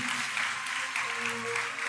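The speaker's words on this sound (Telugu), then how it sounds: "చప్పట్లు కొట్టి ప్రభుని మయంపరుద్దామా" A church congregation claps hands in praise, a steady wash of many hands applauding together at moderate loudness, continuous without pauses or voices.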